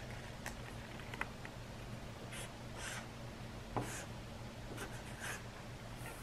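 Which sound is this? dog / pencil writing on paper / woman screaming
pencil writing on paper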